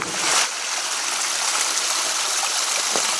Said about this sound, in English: You can hear that water too running way on down when you're up on the hill a little bit